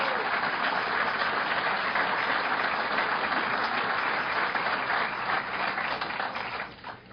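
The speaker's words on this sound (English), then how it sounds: "And let's give them a round of applause." An audience at a governor's budget address in Suffolk County gives a sustained round of applause, a thick, even wash of clapping that holds steady and then tapers off at the very end.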